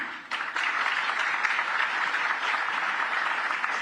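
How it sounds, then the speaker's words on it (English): A crowd applauds at a governor's ceremony in Chennai marking the formation day of the union territories, with a few scattered claps at first, then full, sustained clapping. "Good round of applause"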